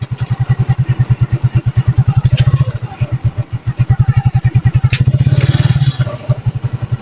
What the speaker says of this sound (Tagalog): Parang may motor doon tol ah. Parang may motor na ano.